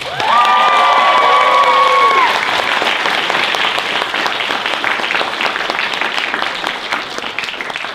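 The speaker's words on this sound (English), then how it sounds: "Nekocon 23, give yourselves a round of applause for being here." Loud convention crowd applauding and cheering at an anime convention Q&A panel, dense sustained clapping with a few whoops rising over it, fading slightly toward the end.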